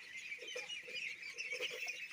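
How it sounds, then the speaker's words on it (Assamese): A flock of 26-day-old local duck chicks calls softly, giving a scatter of short, repeated quacking peeps at low volume. "মোৰ হাঁহকেইটা আজি 26 দিনমান হ'লে।"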